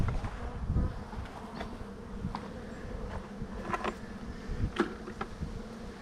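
Bees buzz around a closed-up hive at close range: a continuous low hum with individual insects zipping past the microphone now and then, no voices present.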